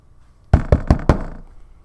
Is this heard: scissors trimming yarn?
no